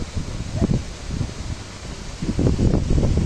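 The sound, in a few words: wind blowing by a lake dam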